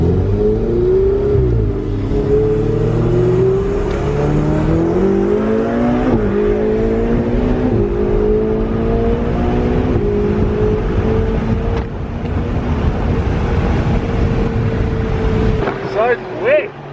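A Ferrari 488 GTB's turbocharged engine pulls hard from close range, its rising drone stepping up through rapid, near-instant gear shifts, with the tone climbing again after each change and a brief lift near the end.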